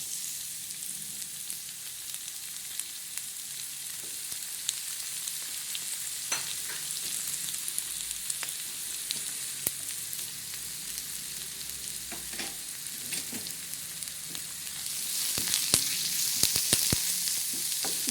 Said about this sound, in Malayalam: പാനിലേക്ക് ആവശ്യത്തിന് വെളിച്ചെണ്ണ ഒഴിച്ചു കൊടുക്കുക അതിലേക്ക് ഒരു സവാള അരിഞ്ഞത് ചേർത്ത് കൊടുക്കുക